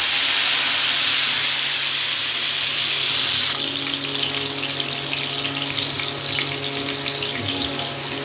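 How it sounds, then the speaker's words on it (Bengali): Tomatoes frying in a pan during cooking, a loud steady sizzle and hiss that carries on without break, close up and with no talking. "এবার টমেটো দিতে হবে ভেজে নিতে হবে"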